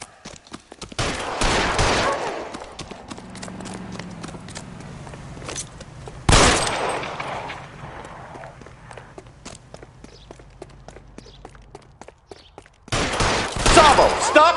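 Gunfire in the video game L.A. Noire comes as sharp loud bursts near the start, middle and end, with quieter footstep-like clatter and some talk in between.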